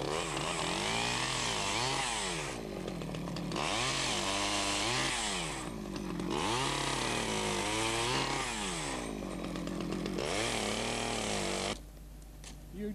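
A chainsaw trims the tops off a laid hedge, its engine revving up and down in repeated bursts under steady load before dropping to idle at the end.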